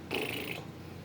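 A cat purrs in a brief, close, breathy rumbling burst, heard alone.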